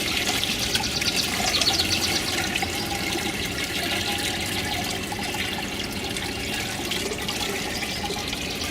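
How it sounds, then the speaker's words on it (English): Fermented wild plant tea poured by hand from the corner of a bucket onto a biointensive garden, a steady close splashing and trickling stream of liquid without pause. "I'm using the corner of the bucket to direct the flow of water."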